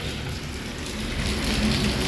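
Steady rain hisses and patters on surfaces all around, a dense, continuous wash of sound with a low rumble beneath.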